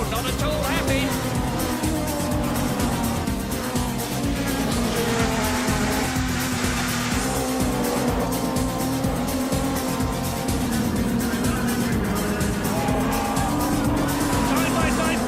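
GT3 cars race side by side at Barcelona in a sim racing video game, engines droning steadily with tires squealing and scrubbing throughout, under continuous excited commentary.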